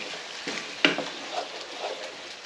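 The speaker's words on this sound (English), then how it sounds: "But I just want to mix this." A spoon scrapes through a taco casserole mixture with cream cheese in a pan, giving soft, close stirring strokes over a faint, steady sizzle, with one brighter knock against the pan.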